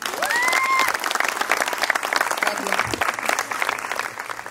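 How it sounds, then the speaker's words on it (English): Wedding guests applaud the newly married couple in a steady, lively round of clapping that carries on throughout, with a few voices and cheers mixed in. "I'd like to ask everybody to give a round of applause for what God has put together"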